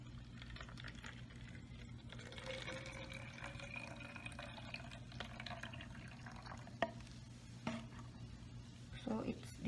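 Water is poured into a container to dissolve a Clorox chlorine tablet during biological spill cleanup: a faint, steady liquid rush set low against a constant background hum.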